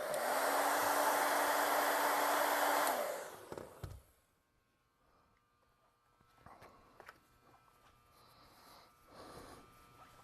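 Hair dryer blowing loud and steady for about three seconds as it dries a fresh coat of finish on a leather glue repair, then switching off, followed by quiet handling noises.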